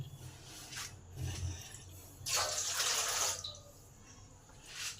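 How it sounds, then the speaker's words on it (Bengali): Water is poured into a bowl of palm pulp batter for oil-free Bengali tal bora, a splashing pour of about a second mid-clip between softer liquid sounds, with no talking. "তার মধ্যে পরিমাণ মতন জল দিই"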